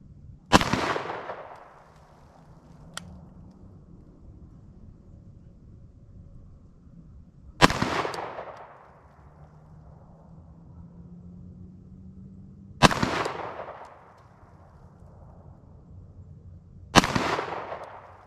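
A Glock Gen 5 pistol firing coated lead round nose bullets at a range, four sharp, loud shots spaced several seconds apart, each with a ringing decay, no talking.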